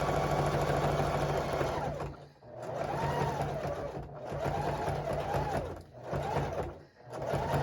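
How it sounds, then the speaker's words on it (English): A sewing machine stitches a farmhouse jellyroll fabric rug, its motor whirring steadily in long runs that slow and dip briefly between passes, close and alone. "So typically when I'm sewing a rug here, I go really slow around the corner"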